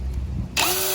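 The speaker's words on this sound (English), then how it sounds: "now what I'm doing is I'm actually just drilling some pilot holes" Power drill boring pilot holes in the sheet-metal bonnet of a 120-series Toyota Prado, the motor spinning up sharply partway through into a loud close whine after low rumbling background noise.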